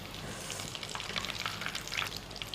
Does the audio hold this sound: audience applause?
no